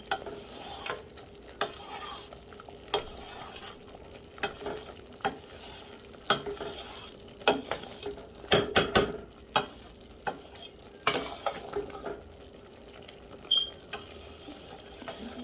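Pecans stirred into a slowly boiling pecan and coconut candy mixture, giving soft bubbling and sizzling under repeated scraping and clinking spoon strokes, fairly quiet and close.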